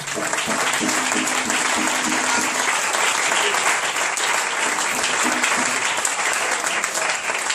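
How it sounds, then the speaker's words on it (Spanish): A church congregation applauds steadily and loudly, a dense wash of clapping that fills the whole stretch with a few voices calling out faintly beneath it. "Dale un aplauso al Señor."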